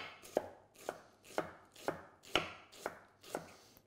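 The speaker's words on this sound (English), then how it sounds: "Slice down the onion." A knife slices down through a white onion on a cutting board, eight steady, evenly spaced chops at close range with nothing else heard.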